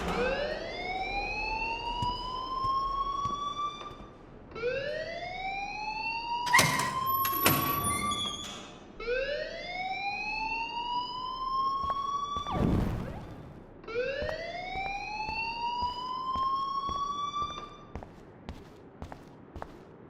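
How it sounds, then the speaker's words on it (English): A rising, wailing siren-style alarm in the video game Life Is Strange sweeps upward in four repeated cycles, loud and continuous, with scattered footsteps and thuds in between. "please turn off that alarm since that's your job"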